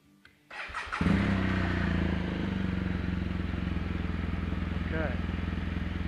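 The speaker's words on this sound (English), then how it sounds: "Start the bike up." A BMW motorcycle, either an R1200GS Adventure or an S1000XR, cranks over and catches after a short starter whir, then settles into a steady, loud, close idle with a continuous throbbing rumble.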